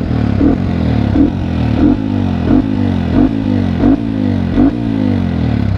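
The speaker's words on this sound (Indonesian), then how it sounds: "ini motor gue sekarang udah suaranya udah berubah nih." Upgraded motorcycle engine idling and blipping nearby, a steady low rumble punctuated by about eight evenly spaced rhythmic revving pulses.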